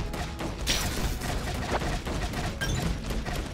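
Cannon fire in the video game Defend Your Life, a dense, continuous clatter of rapid shots and booms with no clear gaps, moderately loud and steady throughout.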